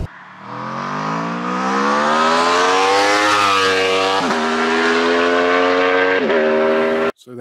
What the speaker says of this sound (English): 2021 Aprilia RSV4 1100 factory